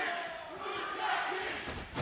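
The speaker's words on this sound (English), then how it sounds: "And the crowd rallying back behind the Lucha Kings." A pro wrestling crowd at a Halloween show in Vista, California cheers and rallies behind the Lucha Kings, a broad roaring swell with shouts rising near the end, heard faint and distant beneath commentary.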